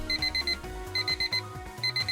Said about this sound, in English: The alarm signaling the end of our break rings